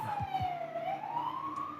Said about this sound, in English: There goes an ambulance.